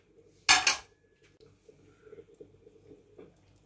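A metal lid clanks down onto a cooking pot of ginisang monggo, two quick close rattling hits, followed by faint kitchen clatter and low background noise.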